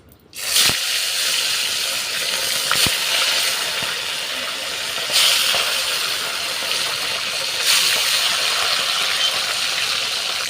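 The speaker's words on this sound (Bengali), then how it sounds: "তো আমাদের তেল গরম হয়ে গেছে, এবার দিয়ে দেবো মাছ।" Fish fries in hot oil in a wok with a loud, steady crackling hiss, a few sharp pops and clicks, and swells of sizzling as the fish is moved.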